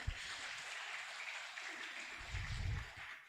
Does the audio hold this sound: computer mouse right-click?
no